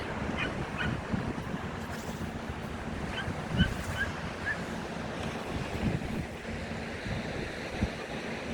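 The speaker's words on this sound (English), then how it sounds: "There's the sea." Sea waves wash steadily along the coast between Colwyn Bay and Rhos on Sea, with gusty wind buffeting the microphone; no voices.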